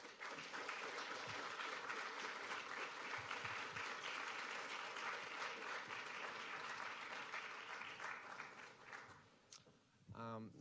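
An audience applauds a student product design presentation with sustained, even clapping that fills the room for about ten seconds, then tapers off at the end.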